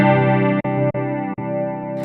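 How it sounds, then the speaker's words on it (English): Electric guitar playing through the normal chorus effect on a Zoom G3X HD multi-effects pedal, giving a shimmering, dense sustained sound with a few brief breaks between strummed chords and no talking. "This is a normal chorus."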